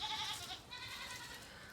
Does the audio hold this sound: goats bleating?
yes